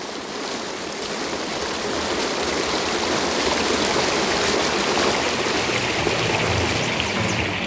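Large volume of water rushing and draining away in the Red Sea parting effect on the Universal Studios Hollywood tram tour, a steady broad roar like a stream or waterfall that swells slightly and holds loud throughout.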